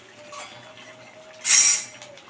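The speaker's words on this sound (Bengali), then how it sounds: "এবারে কিন্তু আমি এটাকে মেশাবো মেশাবো মানে খুব ভালো করে একটু কষিয়ে নিচ্ছি আমি" A spoon scrapes and clinks once against a pan while chicken curry is stirred and browned with little oil, a short bright burst standing out from a quiet, steady background.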